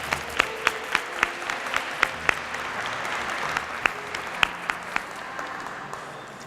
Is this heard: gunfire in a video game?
no